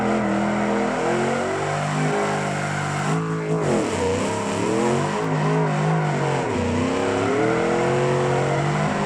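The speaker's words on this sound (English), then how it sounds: "They're very strange sounding exhausts." Drift truck with an unusual-sounding exhaust in the BeamNG racing game, engine revving hard with rising and falling pitch sweeps, a cut at gear changes and renewed climbs, loud and continuous.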